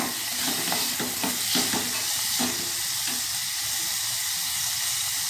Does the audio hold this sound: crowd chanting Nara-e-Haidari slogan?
no